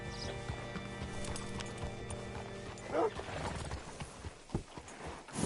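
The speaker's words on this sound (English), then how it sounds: "Hitch your horse up here." In Red Dead Redemption, a horse whinnies once amid clopping hooves and ambient game sounds, moderately close, with a few louder thumps afterward.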